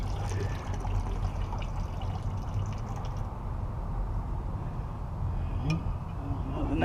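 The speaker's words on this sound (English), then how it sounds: "I'm going to drain the heater core into this bucket." Coolant draining out of a car's heater core into a bucket, a steady pouring trickle close by, continuous throughout with a faint clink near the end.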